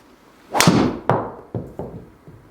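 A golf ball driven off the tee with a TaylorMade SIM Max driver: a sharp, loud impact crack followed by a fading whoosh, then several fainter knocks trailing off, with no voices.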